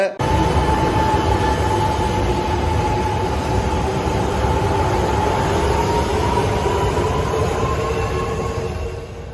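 Japanese-made bullet train on a test run, a loud, steady rolling roar with a faint high whine, holding close and constant before easing slightly at the end.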